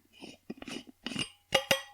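Coffee cup and dishes handled on a table, with soft scraping and shuffling followed by two bright, close ceramic clinks near the end.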